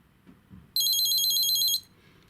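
A vintage Seiko Data 2000 watch alarm beeps in a rapid, high, thin chirping burst lasting about a second, close and clear over faint background handling noise.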